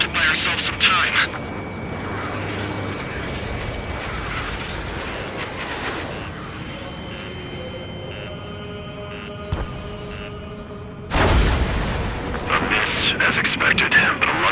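A railgun fires in the air-combat video game Ace Combat 7, with a loud blast at the start, a long sustained electronic hum and tones through the middle, then a second heavy burst near the end. Speech is heard beneath the game sounds.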